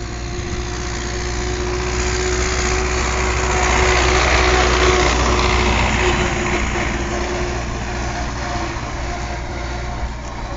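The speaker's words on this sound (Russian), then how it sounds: "Поехал легендарный трактор «Беларусь»." A Belarus tractor's engine drones loudly and steadily as it drives past in a Belarusian village, swelling slightly midway and then holding, with no voices.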